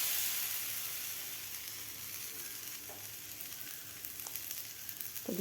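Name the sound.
colocasia leaves frying crisp on a hot griddle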